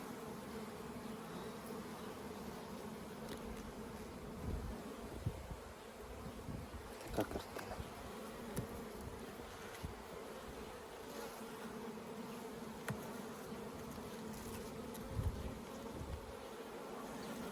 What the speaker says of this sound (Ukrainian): тут бджоли дуже багато